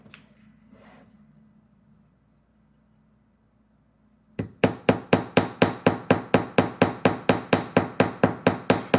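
After a few faint rustles and a near-silent pause, a hammer begins rapid, steady taps flattening jewelry wire against a hammering block, about two dozen close, crisp blows in quick rhythm.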